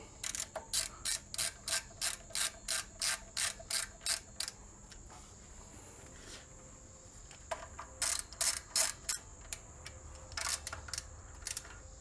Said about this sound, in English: Just gonna go around here and tighten them real quick.